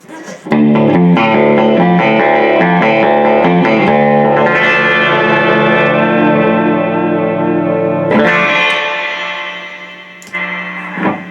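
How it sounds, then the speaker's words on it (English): An electric guitar plays sustained notes and chords through a reverb effect, long ringing tails with some distortion, loud and close, then decaying before a brief final strum. "Let's get a little bit of reverb on there."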